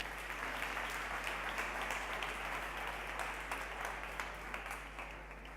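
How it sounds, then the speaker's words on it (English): An audience at a conference morning session applauds steadily and fairly faintly throughout, heard alone over a low hum. "Give a huge applause for them."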